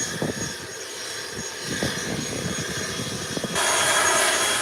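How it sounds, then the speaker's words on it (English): A Beechcraft 1900 twin-turboprop from Grand Turk touches down, its propeller and engine drone steady and moderately loud at a distance, swelling into a brighter, louder roar near the end. "It's the Beechcraft 1900 and it's touching down."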